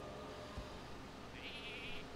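A Polymorph sheep bleats in the Hearthstone card game, a single short, faint nasal bleat rising over a steady noisy game background.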